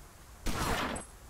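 Gunfire in the game Omertà: City of Gangsters, a single short burst of shots lasting about half a second, fairly loud against a quiet background.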